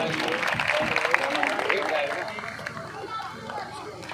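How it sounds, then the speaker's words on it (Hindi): Loud applause from a crowd at a Shree Shyam devotional jagran, greeting a small boy bhajan singer; dense, sustained clapping with crowd noise that gradually eases off over a few seconds. "इसके लिए भी एक बार जोरदार तालियां"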